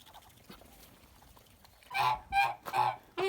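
Several loud, nasal honks from domestic geese in a summer enclosure in the first snow come close together near the end, after a stretch of quiet background.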